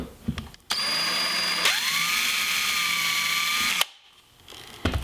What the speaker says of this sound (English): I'll use a VIX bit, which is a self-centering drill bit, to pre-drill holes for the hinge